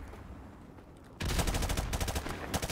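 Gunfire bursts out suddenly partway through, in the video game Call of Duty Modern Warfare Remastered: loud, rapid automatic shots in quick succession after a quiet start.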